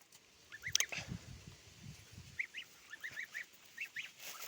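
Geese let outdoors to forage honk in short bursts, a couple of clear calls early and then a string of quick, fairly distant honks, over faint outdoor background and low rustling.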